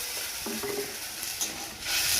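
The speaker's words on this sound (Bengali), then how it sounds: "এবার দেখো আমার ভালো করে আমগুলো ভাজা হয়ে গেছে।" Fried mango pieces for mango chutney being stirred in a pan, a soft scraping stir over a constant sizzling hiss, with the frying noise swelling louder toward the end.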